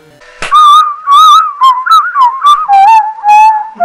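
Warbling, wavering whistled melody from a Baldi's Basics mobile rip-off game, with a wobbly, processed tone, played in short phrases after a sharp click, loud and close with no voices.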